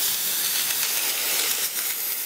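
A McCulloch MC1375 canister steam cleaner sprays weak, only slightly warm steam, making a continuous close, loud breathy hiss with slight wavering that never stops.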